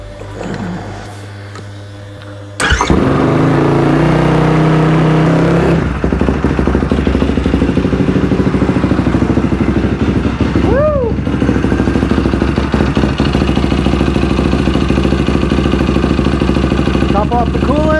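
Yamaha YFZ450R ATV engine, cold and choked, cranking after a short quiet stretch and catching into a loud, close, steady idle with mechanical clatter, running on for many seconds.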